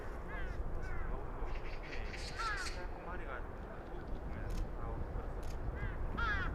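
Hungry vultures gathering in winter to feed on meat, giving harsh, scattered caws and calls over a constant rushing background, moderately distant and fairly faint.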